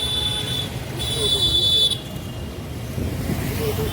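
Cars rush along a road in a steady roar of traffic, with a high electronic beep sounding intermittently over the rumble and faint voices in the background.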